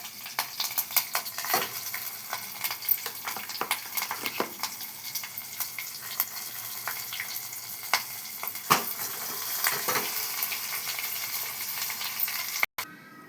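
Hot tempering sizzles in a pan for ridge gourd chutney, a steady frying crackle with scattered clicks of a spoon stirring against the metal, continuing throughout until a brief cutoff near the end.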